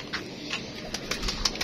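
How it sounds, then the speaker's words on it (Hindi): Pigeons cooing in a loft or coop with brief bursts of wing flapping, fairly close, soft repeated calls against a low background hum. "ये देखिए माशाल्लाह ये कबूतर हैं"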